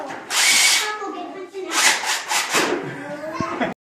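A power tool, likely an impact driver or drill, whirs in repeated bursts while removing cab mount bolts on a third-generation Cummins truck, close and loud, with voices mixed in.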